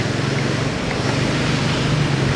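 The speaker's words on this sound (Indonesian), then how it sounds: "Hujannya makin gede. Makin gede hujannya." Heavy rain pours down outdoors during a road trip through Ciamis, West Java, a dense, loud, continuous roar of water with no pauses.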